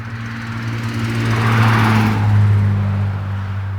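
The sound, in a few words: big truck crossing a bridge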